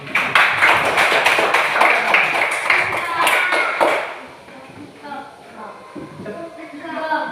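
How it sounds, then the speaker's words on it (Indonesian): A rapid run of hand claps rattles close and loud for about four seconds, then fades into quieter scattered sounds. "Oke, tepuk tangan."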